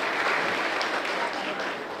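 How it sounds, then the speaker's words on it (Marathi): A crowd at a Maharashtra government scheme launch event claps in congratulation, a steady wash of applause that thins slightly toward the end, with a voice faintly present. "त्याबद्दल आपण या महायुतीच्या सरकारचं मनपूर्वक टाळ्या वाजवून अभिनंदन करूया"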